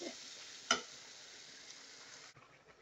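Dried fish goes into a pan of sizzling, fried-down spiced masala, giving a soft, steady frying hiss with one sharp crackle burst early on. The sizzle drops away abruptly near the end.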